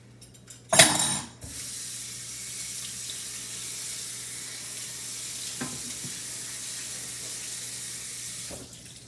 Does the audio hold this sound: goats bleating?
no